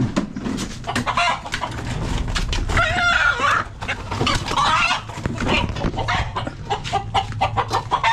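Chickens cluck close by in short, busy bursts, with rustling and background noise throughout.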